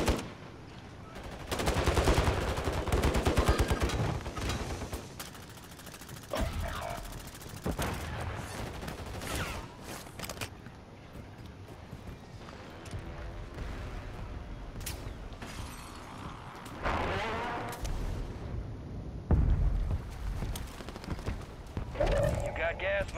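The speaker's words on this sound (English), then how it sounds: "I'm taking sniper fire from somewhere." Call of Duty gameplay with sniper shots and machine gun bursts cracking in loud, repeated volleys, mixed with game voices and radio chatter throughout.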